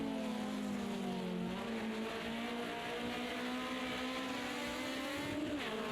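BMW 2002 race car engine at full throttle at Oulton Park, a loud sustained roar with the pitch climbing and dropping through gear changes, heard from onboard with no talking.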